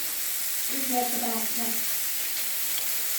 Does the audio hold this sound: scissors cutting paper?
no